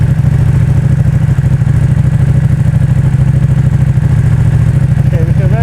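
A Ducati Panigale V2 with an Arrow titanium exhaust idles steadily nearby, a loud, even, low burbling throb with a faint mechanical clatter that holds throughout.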